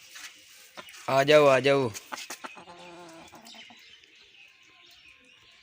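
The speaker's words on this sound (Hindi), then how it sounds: "अभी बस हमारा नया मुर्गा हमने रखा हुआ है" A newly kept rooster in its cage lets out a loud, close, drawn-out crow, followed by a few softer clucks and bird chirps, while a person speaks briefly nearby.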